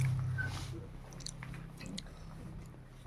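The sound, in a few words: person chewing food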